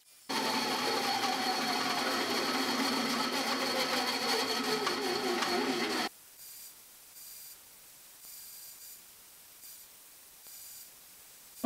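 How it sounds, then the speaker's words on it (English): A bandsaw cuts through a cast block of micarta still held in its wooden mold, giving a steady loud grinding whine for about six seconds that then cuts off sharply. Faint intermittent sounds follow in near silence. "let's take it to the bandsaw, see what it looks like when we cut it out of the mold"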